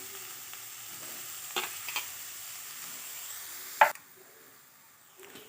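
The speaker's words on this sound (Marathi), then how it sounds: "भाजी आपण कढईत गरम टा गरम कढईत टाकलेली आहे" Onion and tomato are heated in a hot kadhai with the gas off, giving a faint low sizzle with a few soft stirring scrapes and one sharper clank.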